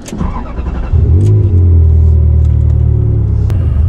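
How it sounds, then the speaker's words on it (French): A Ferrari car drives past with a loud, close, steady low engine rumble that swells and holds for several seconds. "Une petite balade en Ferrari."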